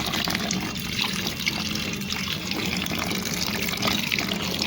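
Cold water pours steadily into a container in a child's play-house setting, a continuous close gushing and trickling with no talking.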